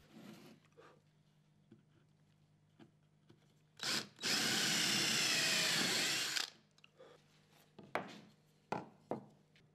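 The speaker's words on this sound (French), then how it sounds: "Préforez tous les trous." A power drill pre-drills a hole in wood in one loud, close burst of about two and a half seconds, with handling knocks and scrapes of the wood before and after.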